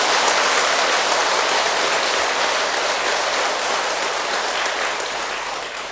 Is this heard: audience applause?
yes